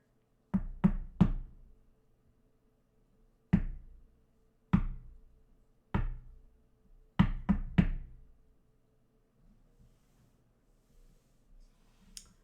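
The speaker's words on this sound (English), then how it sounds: "So you hear that knocking, and then it stops." Faint knocking from deep in a mine shaft, in short clusters of sharp raps separated by pauses, echoing against near silence.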